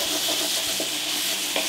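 Pork stir-fry with peppers, lemon and wine sizzles steadily in a pan, with a couple of brief scraping stirs breaking through the constant frying hiss.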